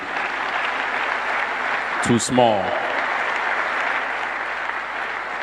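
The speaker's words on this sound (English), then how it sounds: "another round of applause" A further round of applause at a memorial tribute, steady crowd clapping throughout with a brief spoken phrase breaking in over it midway.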